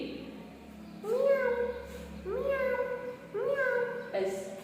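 A voice mimics a cat's meow three times in a row, each a rising then falling whine, close and evenly spaced.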